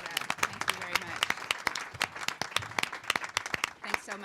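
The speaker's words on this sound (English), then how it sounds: "I think we can all give Neil a round of applause for that" An audience at a Supreme Court term preview event gives a dense round of applause, many hands clapping close and continuously with overlapping sharp claps, while someone speaks over it.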